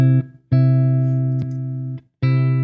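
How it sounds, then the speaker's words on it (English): An electric guitar plays through a Warden compressor pedal, with three loud, even, sustained notes separated by short gaps. Each note holds steady volume before cutting off, close and with no talking. "let's flip on the compressor here. This is the Warden at all those settings I just told you."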